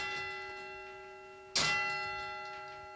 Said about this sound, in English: The clock moves these hammers up and down,